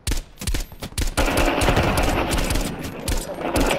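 Automatic gunfire rattles in an online shooter match, a short burst followed by a long sustained stream of rapid shots, loud and close.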